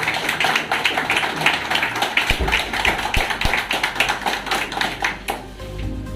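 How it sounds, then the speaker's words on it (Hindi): Audience applause at an award ceremony, a dense steady patter of many hands clapping together for several seconds before tapering off, fairly close and loud. "एक बार ताली बजाइए भाई।"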